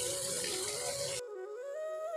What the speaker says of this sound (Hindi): देखिए सहस्त्रों धाराएं निकलती हैं यहाँ से, संख्य धाराएं, और एक लाइन में बह रही है